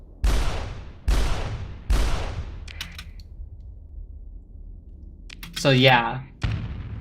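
A custom bolter-style rocket weapon firing in the game Starsector, three loud, evenly spaced booming shots with trailing rumble, then quieter crackles and one more shot at the end, with someone speaking briefly between.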